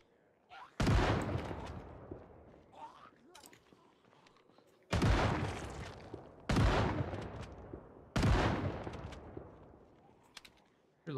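Gunfire in a zombie survival video game, four loud, sharp shots spaced a few seconds apart, each with a booming echoing tail, against near silence in between.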